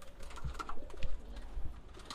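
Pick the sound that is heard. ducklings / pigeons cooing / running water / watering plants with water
pigeons cooing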